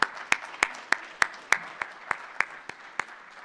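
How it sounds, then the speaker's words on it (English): A small audience at a city celebration event claps in a sparse, slow rhythm, about a dozen distinct handclaps standing out, fairly close and modest in volume. "Let's give them a big round of applause."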